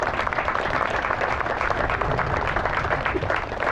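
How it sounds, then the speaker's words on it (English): A round of applause from an outdoor audience at a fountain dedication ceremony in Seneca Falls, NY, steady dense clapping filling the whole stretch at moderate loudness with no voices over it. "Please give them a round of applause, please."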